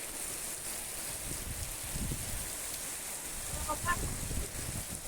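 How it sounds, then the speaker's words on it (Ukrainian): Rain pattering and hissing steadily at a low level, with a brief faint honk-like call partway through. "Ой, який дощик розійшовся, але дощик треба"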